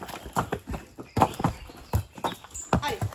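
A horse walking on long reins at a homestead ranch in Ghana: steady, close hoof clip-clops in an even walking rhythm, with low voices calling commands around the steps.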